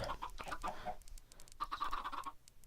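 Chickens cluck and chatter in a blocky building video game chicken farm, a soft, busy run of overlapping clucks and short calls heard quietly with no talking.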